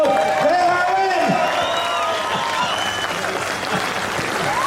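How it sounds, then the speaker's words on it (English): A crowd at a North West 200 meet-the-riders event in Coleraine gives rider Glenn Irwin loud, sustained applause with cheers and whoops, while voices call out over it. "I want you to give him a huge round of applause"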